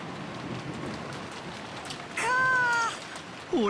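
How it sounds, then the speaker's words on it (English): Steady rain patters in the visual novel Umineko, a continuous soft hiss of falling drops with a cat's meow rising over it near the end. "disappeared beneath the sound of the rain"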